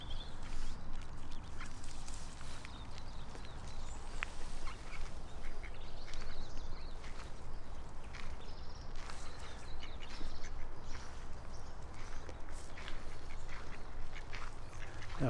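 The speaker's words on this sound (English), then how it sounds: "this little duckling, eh? He's trying to get up onto the rock." A duckling and other ducks quack by a rock at the water's edge, with repeated scattered quacks and peeps over steady outdoor ambience, nobody speaking.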